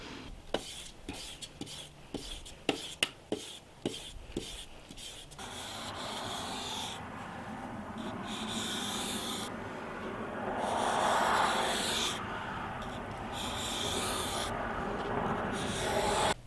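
A tomahawk edge is stroked across 2000 grit sandpaper, first as a run of quick separate scrapes, then as a steady, soft, continuous rasping rub, faint and close.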